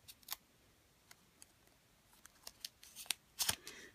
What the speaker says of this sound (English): trim the leader off the film you're going to be using